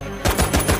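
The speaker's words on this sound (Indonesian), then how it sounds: "Dan saat tentara Jerman membuka tank, Norman langsung memberinya tembakan." Rapid bursts of gunfire from a German soldier being shot at a tank in the war film Fury, four quick loud reports in under a second.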